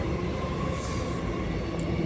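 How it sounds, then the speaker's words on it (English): A train arriving at a station: a steady, loud broadband rumble of rolling wheels and rail noise that holds unbroken throughout, with a faint high whine above it. "All right, my train is here."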